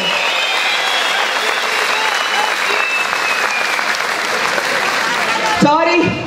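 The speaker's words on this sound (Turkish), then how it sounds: "Alkışlıyorum." Loud, sustained applause from a large crowd at the founding event of a Turkish political party in 2017, a dense steady wash of clapping that breaks off near the end into a brief voice.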